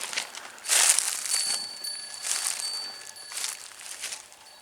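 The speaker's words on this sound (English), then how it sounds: "Wind chimes are pretty" Wind chimes hung on a wooded hilltop ring softly with thin sustained metallic tones, accompanied by intermittent rustling and gentle breezy noise, somewhat distant and calm, no voices.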